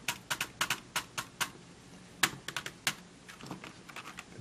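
Typing on the keyboard deck of an MSI X340 netbook, a quick, irregular run of sharp, close keystrokes with brief pauses, fairly loud clicks against a quiet background.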